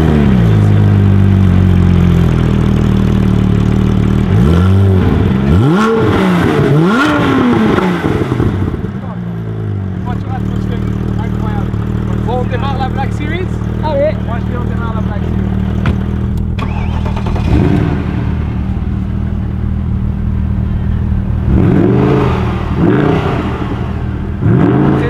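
A Porsche RS engine with a new GT3 Cup-style exhaust, heard up close and loud as it blips and revs in rising-and-falling sweeps, then settles to a rumbling idle with more revs near the end.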